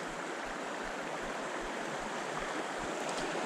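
Fast-moving water in an Appalachian mountain stream where smallmouth bass are fished, a steady, full rushing roar that is close and continuous throughout, with no voices.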